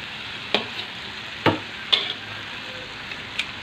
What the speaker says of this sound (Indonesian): Sudah, sekarang kita aduk-aduk ya. Kita aduk-aduk.